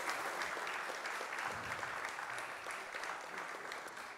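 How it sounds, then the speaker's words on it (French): Conference audience applauding after a talk on generative AI and ChatGPT, a dense steady wash of clapping from a sizable crowd, somewhat distant and fairly quiet. "Merci Marco Lendi, on peut l'applaudir"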